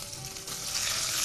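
Kasuri methi, cloves and spices sizzle and crackle in hot tempering oil, a close, continuous frying hiss that grows brighter and louder toward the end, with no talk.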